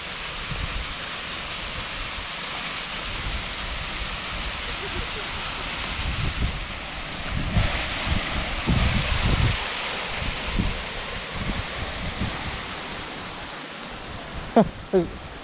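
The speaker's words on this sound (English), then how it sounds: "And it's raining today, so it's really pretty." Rain falling steadily at an offroad park on a wet day, a broad even hiss throughout with some louder rustling and knocks midway and a couple of sharp thumps near the end.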